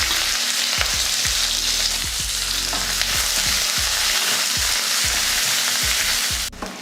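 Onion sautés in oil in a kadai with mustard seeds, urad dal and curry leaves, a loud continuous sizzle punctuated by regular stirring strokes, close and without talk.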